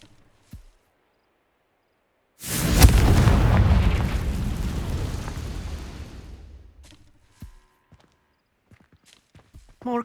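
A Confringo explosion spell in the Hogwarts Legacy video game goes off as a single loud, broad blast that rumbles and slowly fades over a few seconds, with soft footsteps before and after.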